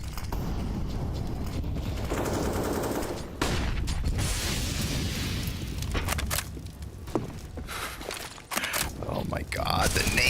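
Rapid gunfire bursts and a grenade blast from a professional Counter-Strike tournament match, dense and loud, with excited commentators talking over the shooting throughout.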